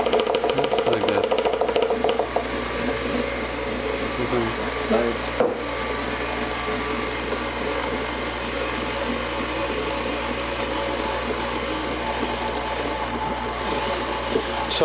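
A stand mixer kneading sourdough bread dough, its motor giving a steady loud whirring drone with a rattling, thumping rhythm from the dough hook, continuous and close throughout, no talking.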